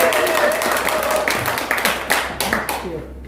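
Audience members at a regional forum clap at a moderate level as applause begins, thinning into a few sharp separate claps by the end, with some voices audible underneath.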